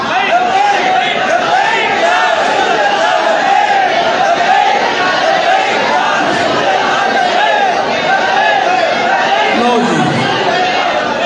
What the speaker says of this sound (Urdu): یہ میرے سامنے آپ دو نعرے لگا رہے ہیں، ایک تو یہ لبیک یا رسول اللہ کا